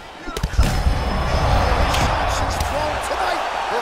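A straight punch lands in a televised women's MMA fight, a sharp impact thump early on, followed by a swelling crowd roar and commentary carrying on beneath.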